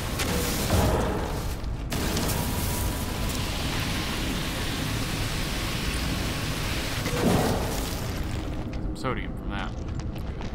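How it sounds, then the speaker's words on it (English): A thunderstorm in the video game No Man's Sky gives a steady, loud roar of heavy rain with low rumbling thunder swelling near the start and again late on, and the wash thins out toward the end. "it still tells me down there that there's a storm"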